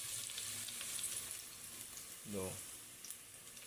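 Vegetables for ginataang gulay go into a pan of hot oil, which gives a soft, constant frying sizzle with faint clatter and a brief low voice partway through, all quiet and close.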